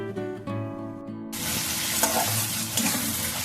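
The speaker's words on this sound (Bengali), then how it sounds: "ভালোভাবে আমি এখানে পেঁয়াজগুলোকে মশলার সাথে কষিয়ে নেব" Onions sizzle with spices in a pan for a chicken and new-potato curry, the frying starting abruptly after a moment of low tonal background music and then crackling steadily close by.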